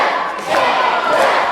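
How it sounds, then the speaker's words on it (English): Wrestling crowd at a Republic of Ireland versus England show roaring steadily, a dense, loud wall of cheering and shouting that swells slightly midway and holds throughout. "this crowd are behind Lamrod, of course, giving the England chance"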